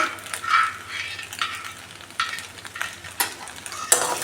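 Chinese-style pasta with egg and chicken being stirred in a pan, giving soft scraping strokes over a light sizzle, with a few louder spoon scrapes scattered through.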